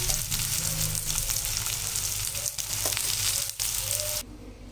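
A wheat flour adai sizzles on a hot pan as oil is poured around its edges, a loud steady frying hiss that continues without talk and cuts off abruptly near the end.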